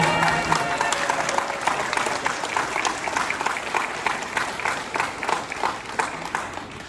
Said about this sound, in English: So if we can give our staff a round of